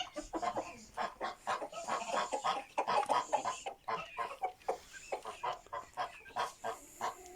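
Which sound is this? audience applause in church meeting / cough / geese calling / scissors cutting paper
geese calling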